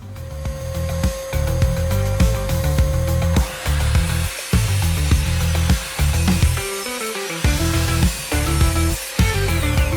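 A miter saw angled to 30 degrees cuts wood for a Leopold chair, its motor a loud, steady whine that runs for the full ten seconds with brief dips and no talking.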